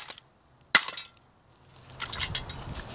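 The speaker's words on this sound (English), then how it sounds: "I'm just smashing a light fixture and some little bit of blade brackets on the frickin' dumb blades" A ceiling fan light fixture and its blade brackets are smashed, giving one sharp glassy crack with brief tinkling, followed after a pause by scattered clinks and rattling debris, close and alone.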